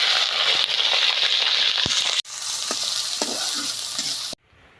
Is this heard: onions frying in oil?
yes